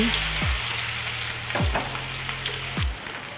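Onion and pandan leaves fry steadily in hot oil in a pan, a continuous close sizzle with a few scraping stirs of a utensil.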